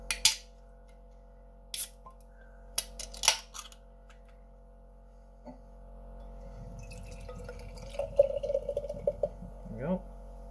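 A can of Florida Orange IPA is cracked open with a few sharp clicks, then after a pause the beer pours with a steady fizzing, gurgling stream near the end.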